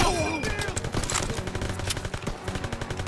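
Dense battlefield gunfire from Call of Duty: WWII during the D-Day landing mission, with rapid machine-gun bursts and overlapping rifle shots crackling continuously and loudly, plus a brief rising tone at the start.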